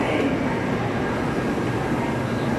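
Steady, loud rolling rumble of a Shinkansen bullet train in Japan running on the Osaka to Hiroshima line, heard up close and continuously with no pauses, as if from on board or right beside the passing cars.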